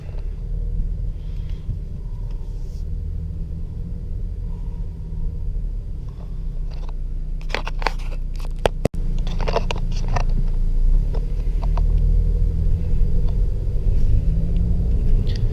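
A Chevy Cruze LTZ drives along at modest speed, its cabin filled with a steady low engine and road rumble, with a brief burst of clicks and rattles midway before the drone resumes.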